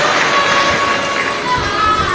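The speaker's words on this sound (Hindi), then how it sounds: "एक बार जोरदार ताली बजाकर सभी संत वृंदों के लिए जोरदार साधुवाद।" At a Shiv Katha religious gathering, a large crowd claps loudly and continuously for visiting saints, a dense, steady wash of applause with no pauses over the short stretch.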